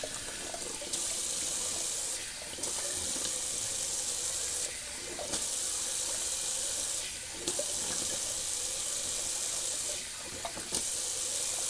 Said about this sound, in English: I do a little cold water rinse.